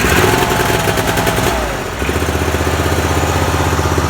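A John Deere F725 mower engine cranks roughly for a second and a half, then catches and settles into a steady, close, loud idle with an even pulsing beat.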